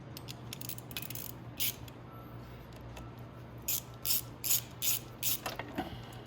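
A ratchet clicks in quick repeated bursts while tightening bolts on the cylinder head of a Venom X22r 250cc motorcycle, close and crisp over a low steady hum, with a series of strokes toward the end.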